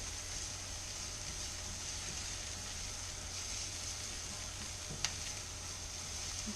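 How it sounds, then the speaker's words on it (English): Onions and garlic soften in a frying pan with a steady, gentle sizzle, quiet and continuous, broken by a single faint click partway through. "So my onions and garlic are now softening together nicely."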